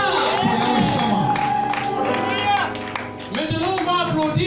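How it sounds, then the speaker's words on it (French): A church congregation claps and cheers loudly throughout, a dense crowd sound with singing or shouting voices mixed in, briefly easing before swelling again. "Applaudissons pour Yahweh Shama."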